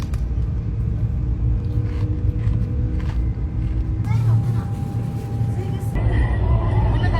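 A train runs along rails with a continuous deep rumble and a steady tonal whine, heard from inside the carriage, with muffled voices faintly in the background.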